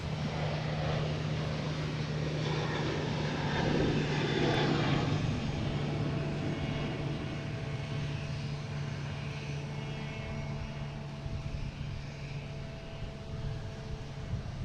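Lufthansa airliner taxiing at Boston Logan toward the international terminal, a steady engine hum and whine with a low tonal drone, moderately near and fading slowly.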